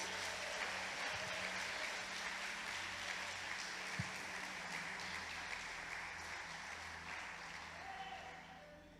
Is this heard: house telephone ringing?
no